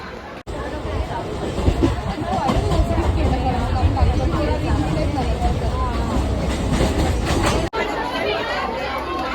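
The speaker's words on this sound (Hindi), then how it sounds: "ये है सैंडल्स रोड रेलवे स्टेशन" A train rumbles loud and close at Sandhurst Road railway station in Mumbai, a continuous roar with clanking wheels beneath a busy babble of passenger voices.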